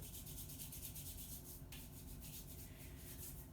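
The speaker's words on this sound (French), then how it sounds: "Vous voyez, je commence à les chauffer, on les frotte." Hands rubbing together palm against palm, a soft, continuous close-up swishing friction with rhythmic pulses, faint and without talk.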